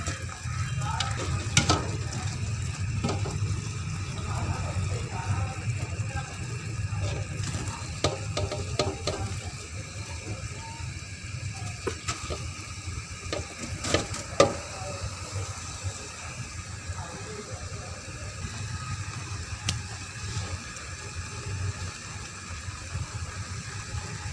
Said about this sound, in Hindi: अब हम इसमें चावल शामिल करेंगे जो हमने बॉईल करके रखे हैं।